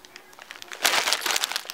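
A plastic package crinkles and crumples as it is handled while being unboxed. Soft rustles come first, then louder, denser crackling close by, with no talk.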